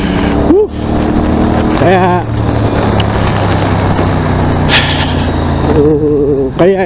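An NK450 motorcycle engine revs hard several times, each burst climbing in pitch over a steady rumbling idle, close and loud.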